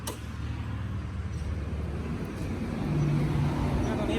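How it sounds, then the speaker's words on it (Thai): Diesel engine of a Hitachi mini excavator with a Yanmar 4TNV88 running steadily at idle, a low continuous rumble that swells slightly toward the end, with faint background voices. "คุณเปิดเครื่องยนต์ให้หน่อย"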